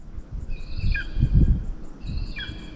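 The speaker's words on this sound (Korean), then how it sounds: "매 소리입니다 매" A high, thin hawk call repeats twice from a distance, each a short descending cry, over low rustling and metal-detector handling noise.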